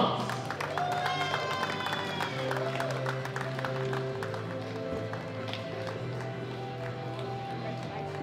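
Audience applause and crowd noise fill a hall after powerlifting medalists are announced at a world championship in Belarus, steady and continuous with tonal background sounds layered over it.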